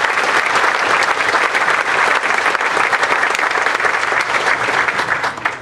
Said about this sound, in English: how about a round of applause again for all these wonderful contributors?